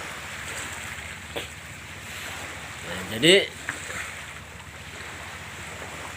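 Sea waves wash onto the shore beside a sacred shrine on the Lampung coast, a steady surging roar with wind buffeting the microphone, while someone speaks briefly partway through.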